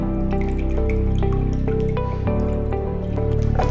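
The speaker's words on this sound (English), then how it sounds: "Make sure you remove any excess water from your kit." Water drips and trickles from a soaked mushroom growing kit's substrate block, a run of close, distinct drops and small splashes with a steady watery patter underneath.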